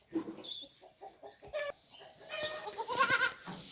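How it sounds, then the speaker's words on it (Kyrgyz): Dairy goats and young female kids bleat in short, scattered calls at a farm, overlapping and close, with other farm animal noise and clucking fowl mixed in. "сүт багытында ургач улактар булар"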